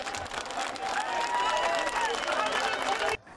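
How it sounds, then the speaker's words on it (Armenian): A crowd gathered at an Armenian church applauds and cheers as security service officers depart, with sustained clapping mixed with voices and murmur before it cuts off abruptly. "ԱԱԾ-ի հեռանալը ծափահարություններով եւ աղոթքներով ուղեկցվեց"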